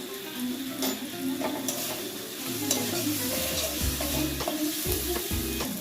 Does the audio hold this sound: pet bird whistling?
no